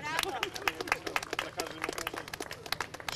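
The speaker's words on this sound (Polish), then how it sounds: "Wielkie brawa dla pani Larysy." Scattered clapping from a small outdoor crowd at a park running event honoring a runner who circled the park 116 times, uneven claps mixed with crowd chatter and voices throughout.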